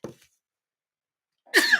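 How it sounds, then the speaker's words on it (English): A single person's sneeze bursts out loudly near the end, close and sharp, following a brief faint sound at the start and a long stretch of near silence. "Oh, sneezing at the right time."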